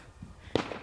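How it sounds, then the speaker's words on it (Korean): A single sharp firecracker pop goes off outside during New Year's Eve celebrations, a brief distant crack after a quiet moment. "자꾸 폭죽을 쏴요."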